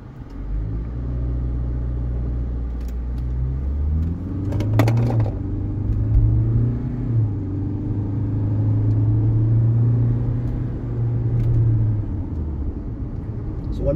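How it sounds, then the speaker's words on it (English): A 2024 Hyundai Creta diesel automatic SUV engine rumbles and builds as it launches away, the drone rising through gears with a few brief clicks along the way. "So I'll just launch the car."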